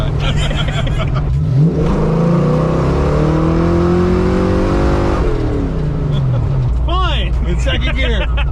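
A Ford Capri Foxbody sleeper accelerates hard in second gear, its engine note climbing steadily in pitch, loud and close, with a brief pause around a shift before the revs rise again.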